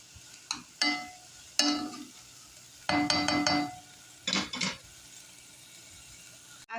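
Garlic is stirred into vegetables in a pot of plant-based taco soup, heard as several short, close scraping strokes separated by pauses.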